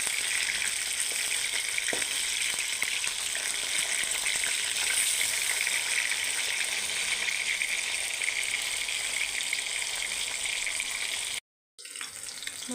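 Pieces of catla fish fry in hot oil with a steady, dense sizzle that holds loud throughout, broken by one brief dropout near the end and a faint clink or two; no talk.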